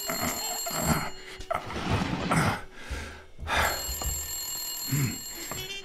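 An old-style telephone bell rings in the game Blacksad: Under The Skin, sounding in repeated bursts against a busy musical and ambient backdrop, with no speech.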